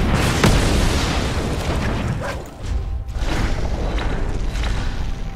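Searing Barrage spell effect from Magic: The Gathering Arena, a loud booming explosive blast with a fiery whoosh that rumbles on, dips briefly midway, then swells into a second sustained roar.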